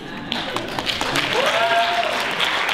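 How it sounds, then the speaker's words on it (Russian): Audience applause at a city KVN comedy team festival of the regional league, a burst of clapping that swells after a brief pause and holds steady, with a voice and a faint whistle-like tone over it. "Аплодисменты."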